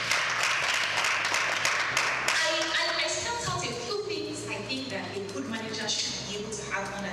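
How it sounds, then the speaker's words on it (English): Audience applause for a woman at a conference-style event, a steady spread of clapping over several seconds that thins out while a voice continues speaking over it. "Let's please give her a round of applause."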